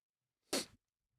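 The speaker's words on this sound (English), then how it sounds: "I have to sneeze as well" A single short, sharp sneeze, close and fairly loud, bursts out of near silence and fades within a fraction of a second.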